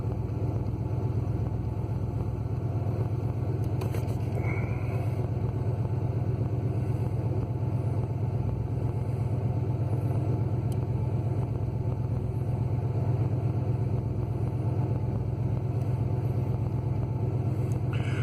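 A car engine fitted with Holley Sniper EFI idles in a steady, unbroken low rumble, heard close and fairly loud, with a constant drone and no talking.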